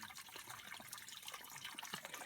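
A small creek waterfall trickles and splashes close by, a faint, bright, continuous burble of running water with scattered droplet patters and no voices.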